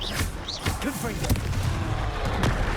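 Confringo blast spell going off in the Hogwarts Legacy game, sharp booming impacts amid a busy magical duel, with voices calling out spells over the combat noise.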